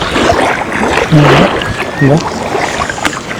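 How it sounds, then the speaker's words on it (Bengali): A boat waits on the water near Digha beach, with a steady wash of wind and water noise throughout and faint voices rising briefly in the background. "আমাদের বোট"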